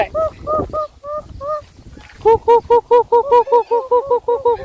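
Repeated loud, nasal honking calls from poultry, a few spaced calls first, then a rapid run of honks close by, with no talking.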